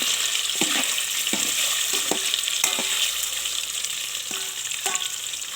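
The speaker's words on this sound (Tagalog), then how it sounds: "So ilalagay na lang natin tong tokwa para mapirito ng konti." Tofu fries in hot oil for a mung bean stew, giving a steady, close sizzle throughout with several sharp clinks of a utensil stirring in the pan.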